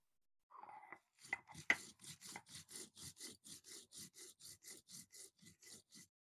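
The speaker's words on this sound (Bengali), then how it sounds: "এবারে গোটা জিরা আর শুকনো লঙ্কা একসাথে বেটে নেব।" Whole cumin and dried chillies ground together on a grinding stone, a steady rhythm of about twenty rough rasping back-and-forth strokes, close and isolated with no talk.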